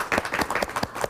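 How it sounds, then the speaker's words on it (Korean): Short burst of studio audience clapping at a local TV talk program, a room of hands applauding steadily at moderate loudness with no voices over it. "박수 한번 주시기 바랍니다."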